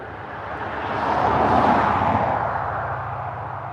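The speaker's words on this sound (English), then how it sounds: "That engine had a bit of growl to it." A car engine goes past with a low growl, rising to a loud peak mid-way and then fading off again as the car moves away.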